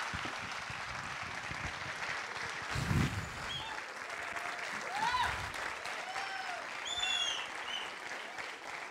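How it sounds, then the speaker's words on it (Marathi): Applause from a live audience at a stage interaction show, with a steady wash of clapping sustained throughout, a few swells, and some whistle-like tones rising above it. "या दोघांसाठी जोरदार टाळ्या होऊ दे"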